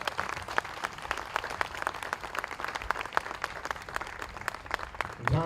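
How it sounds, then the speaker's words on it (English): A crowd at the Central Iowa Fair applauds honorees inducted into the fair's hall of fame, a steady patter of many hands clapping at moderate distance, fairly faint and even throughout. "Let's have a big round of applause"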